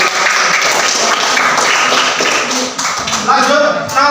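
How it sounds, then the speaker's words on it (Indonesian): A classroom of students claps together during an Indonesian lesson, a dense burst of applause that runs loud and steady, with a few voices mixed in near the end. "Tepuk tangan buat semangat seperti ini."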